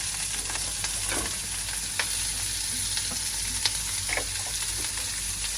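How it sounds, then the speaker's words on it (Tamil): Snake gourd sautés in hot oil with a steady, close frying crackle, punctuated by occasional clinks and scrapes of a spoon stirring the pan. "புடலங்காய் போட்டு நல்லா அப்புறம் அந்த எண்ணெயிலே நல்லா வதங்கட்டும்"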